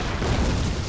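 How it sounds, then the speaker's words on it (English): A dull, booming hand mortar blast in Total War: Shogun 2 online battle, one low rumbling burst filling the whole moment with no talk. "these hand mortars are so bloody effective and I love them so much"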